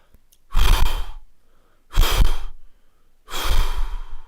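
Three forceful exhaled candle-blow breaths during a freediving breathing exercise, each a loud, rushing blow lasting about half a second, evenly spaced with short silences between, close and alone.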